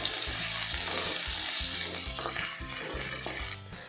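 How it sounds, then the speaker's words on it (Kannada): Sliced onions fry in a pan for a Hyderabadi dum aloo potato curry. The sizzle is steady and close, with soft scraping stir noises throughout and no talking. "ಆನಿಯನ್ಸ್ ಸಾಫ್ಟ್ ಆಗೋವರೆಗೂ ಚೆನ್ನಾಗಿ ಫ್ರೈ ಮಾಡ್ಕೋಬೇಕು"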